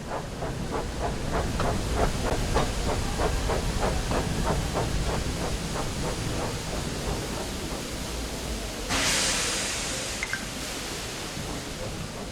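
A steam engine in the Thomas and Friends: Wonders of Sodor PC game hisses and chuffs steadily with a rhythmic beat, then bursts into a louder release of steam near the end, heard up close with no talk.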